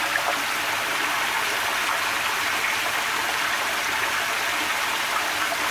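Liquid rushing steadily through a Silverson 275 LS in-line homogenizer with a tri-clamp connection, a constant loud watery hiss with no pauses.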